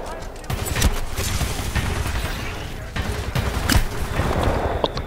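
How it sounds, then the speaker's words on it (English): Gunfire in the video game Titanfall 2, rapid bursts of shots and impacts that go on steadily at close range, with a voice talking over them. "What the, who's shooting me?"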